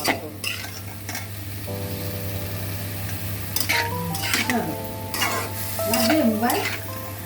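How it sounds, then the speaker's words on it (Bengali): Boiled banana flower fries in oil in a wok under a continuous sizzle, broken by repeated scraping and clinking as a utensil stirs it against the metal, growing busier toward the end. "সেদ্ধ করা মোচাগুলো জল ঝরিয়ে সেটাকে আমরা আবার কড়ার মধ্যে দিয়ে সেটাকে আমরা আবার একটু ভেজে নিচ্ছি"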